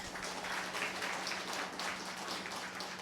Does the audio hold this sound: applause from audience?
yes